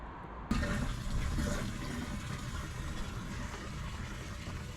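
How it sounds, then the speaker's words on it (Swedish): Water rushes steadily into a 120-litre fresh water tank on a camper van, a continuous broadband gush that starts abruptly and then holds at a fairly loud, even level. "Vi har ju en 120 liter färskvattentank så det tar ju lite tid att fylla den"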